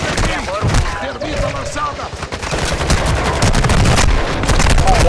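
Rapid bursts of video game gunfire in Call of Duty: Modern Warfare II crackle almost nonstop, loud and close, with scattered voices mixed in underneath.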